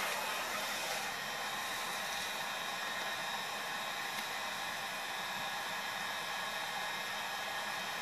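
A heat gun warms vinyl wrap on a car door handle, giving a steady, unbroken airy roar that holds at an even level from start to finish.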